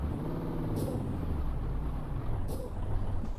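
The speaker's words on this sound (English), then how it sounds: "Truck behaves a little weirdly under braking." A truck in the Euro Truck Simulator 2 video game idles with a low engine drone, and two sharp hissing air-brake releases burst out about a second and a half apart, with no talking.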